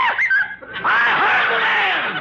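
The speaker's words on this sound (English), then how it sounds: "that parrot sure gets on my nerves shooting off his mouth" A parrot squawks in a 1945 radio comedy, loud, raspy cries rising and falling in quick succession, alone.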